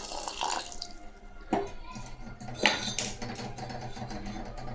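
About 400 grams of water streams and splashes into a metal pot of sambar with occasional clinks of cookware, a continuous close pour lasting several seconds.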